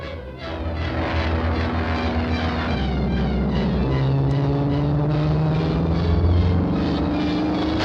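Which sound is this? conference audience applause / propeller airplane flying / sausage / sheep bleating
propeller airplane flying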